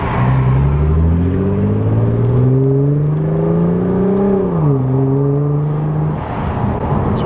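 A Nissan GTR with a 3.8-litre twin-turbo V6 and straight-pipe exhaust revs up loud and close, its howl climbing steadily, then dropping briefly before rising again and settling.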